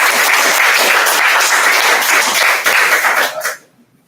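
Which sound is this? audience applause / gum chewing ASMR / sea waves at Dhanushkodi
audience applause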